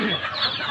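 Chickens cluck steadily on a poultry farm in Mondulkiri province, Cambodia, a dense, nearby chorus of overlapping clucks and calls with no pauses.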